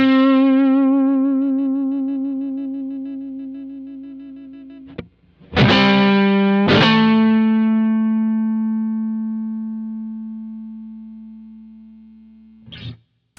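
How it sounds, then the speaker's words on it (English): G&L ASAT Special electric guitar ringing out alone: a long sustained chord fading slowly, then two sharp new strums that ring on for several seconds with a soft decay, and a brief muted scrape at the end. "I'm gonna play the guitar a little bit, and you can hear it really sustains nicely."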